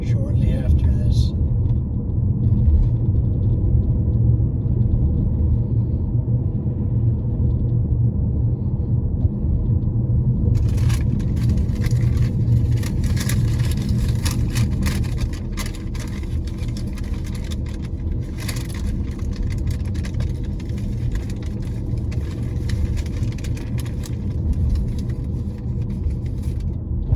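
Continuous low rumble of a car driving in bumper-to-bumper highway traffic between Edmonton and Saskatoon, engine and road noise steady throughout, easing slightly in loudness partway through.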